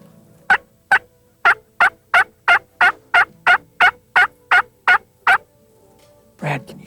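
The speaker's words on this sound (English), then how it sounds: "Brad, you hear that drumming? Yeah, he's getting close now. He's getting close. Get ready. There's a tom in the back" Wild turkey tom gobbling in hunting brush, a steady run of about a dozen evenly spaced loud calls close by, with no talk over it and a low rumble at the end.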